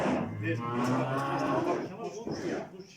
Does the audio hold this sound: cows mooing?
yes